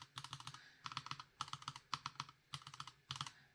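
Fingers type on a keyboard fitted with Gateron G Pro 3.0 switches, producing six quick bursts of clacky keystrokes at a steady rhythm, close and clear with no voices.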